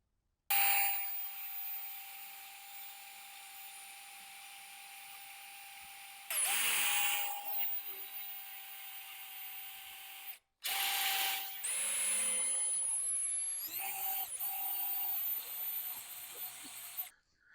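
A power drill bores a 13/16 mounting hole for a Bobcat rear backup camera kit. It gives a steady high whine that stops and restarts in several long runs, close and loud, with no talk.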